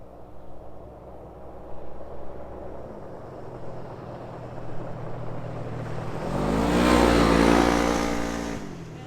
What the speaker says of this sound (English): He hit the gas